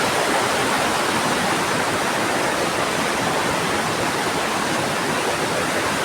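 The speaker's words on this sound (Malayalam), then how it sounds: "ദൂദ്സാഗർ എന്ന ആ വലിയ വെള്ളച്ചാട്ടത്തിൻ്റെ ഫുൾ വ്യൂ ആണ്" A steady, loud roar of rushing water from the Dudhsagar waterfall and its stream in Goa, continuous broadband noise filling the whole clip with no other sounds.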